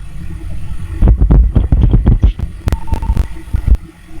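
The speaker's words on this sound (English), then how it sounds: "That's what an elevator video looks like, yeah." An elevator car riding upward gives a steady low hum with a run of dull mechanical thumps and knocks, then a few sharp clicks near the end. No voices are heard.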